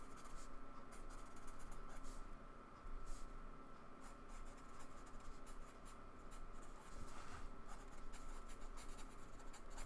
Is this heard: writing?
yes